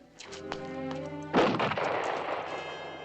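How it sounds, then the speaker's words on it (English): Gunfire rings out in a sharp burst of shots, one loud crack followed by echoing reports and a lingering rumble, heard close with no speech over it. "Pick up your guns and fire."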